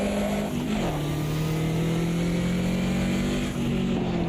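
A race car's engine drones loudly and steadily in Automobilista 2, with pitch dipping slightly on a lift and then holding a constant high whine, close and continuous without talk.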